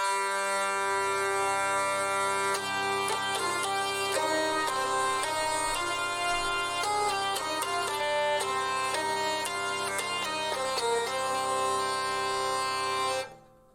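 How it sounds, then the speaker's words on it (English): A hurdy-gurdy plays with a steady, bagpipe-like drone beneath a buzzing, nasal melody of quick stepped notes. It is continuous and close, with no talking, and stops abruptly at the end. "All of this comes together to create a sound often compared to a bagpipe, but distinct from it, like so."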